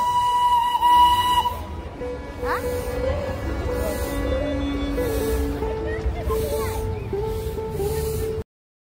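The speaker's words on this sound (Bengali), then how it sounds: "এখানে টয় ট্রেন কিন্তু 360 ডিগ্রি অ্যাঙ্গেলে পুরো একটা রাউন্ড মারে" Darjeeling toy train's steam whistle at Batasia Loop, a long steady tone near the start blowing over a constant rumble of wind and crowd, with speech-like sounds and an outdoor evening bustle throughout.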